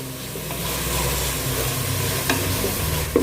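Masala sautéing in a pan for ghee rice sizzles steadily while a spoon stirs and scrapes now and then, close and continuous with no talk.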